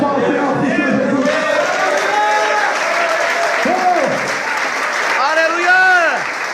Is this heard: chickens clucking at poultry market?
no